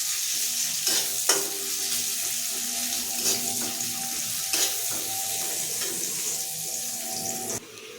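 Onion and leafy greens fry in a pan with a steady, close sizzle, broken by a few sharp clinks and scrapes of stirring; no one speaks.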